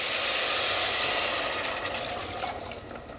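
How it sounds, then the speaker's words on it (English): Homemade vegetable broth pours into a soup pot in a loud rushing splash that tapers off over a few seconds. "I'm just gonna add my broth in. This is a veggie broth that I've made myself"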